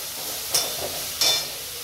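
Ginger, garlic, onion and tomato are sautéed and stirred in a pan: a steady soft sizzle with two brief, brighter scraping stir strokes, close by, with no voices.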